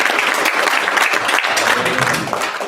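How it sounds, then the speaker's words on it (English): A room full of people applauds at an aviation company talk about flying for the U.S. Forest Service, a steady, dense wash of clapping that stays loud and even throughout with no voices on top. "please give a round of applause for JD here"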